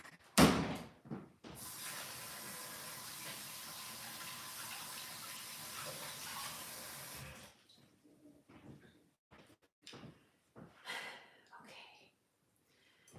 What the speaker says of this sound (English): wash my hands, I'll be right back